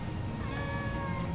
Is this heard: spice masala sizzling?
no